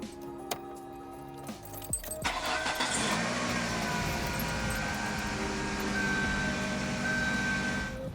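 Close by, a car cranks over briefly after a few clicks and catches, settling into a steady running idle that continues to the end.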